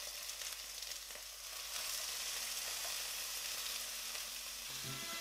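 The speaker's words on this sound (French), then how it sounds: "je vais déglacer avec le vin" Fried golden onions are deglazed with wine in a hot pan, giving a continuous soft, hissing sizzle that swells slightly partway through. It is fairly faint and steady, with no speech.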